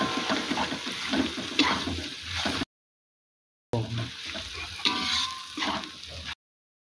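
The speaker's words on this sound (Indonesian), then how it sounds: "Tumis bahan sampai layu dan berubah warna." Lemongrass, galangal, ginger, bay leaves and dried shrimp sautéing in a pan give a steady loud sizzle with scraping stirs, broken by a short silent gap before the frying resumes.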